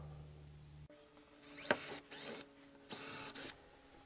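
A drill boring holes into a Jeep JK door handle, several whining bursts of a few tenths of a second each, close and moderately loud, separated by short pauses.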